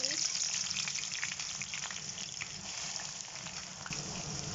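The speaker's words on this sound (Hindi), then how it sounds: "ये जब तेल गर्म हो गया तब मैं इसके अंदर प्याज डालूंगी।" Onions drop into about two cups of hot oil in a kadhai for haleem, giving a continuous soft sizzle and crackle, moderately quiet and close, without speech.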